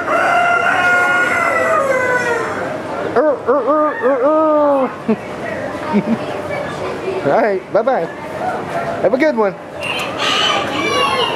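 Roosters crow and cluck inside a county fair poultry barn, several harmonic crowing calls rising and falling over a steady crowd murmur, with people talking nearby throughout.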